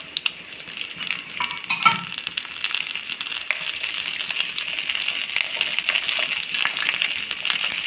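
Shallots and green chillies sizzle in hot oil in a pan for a steady, close hiss that persists throughout, with a few brief clinks of a utensil early on and no talking.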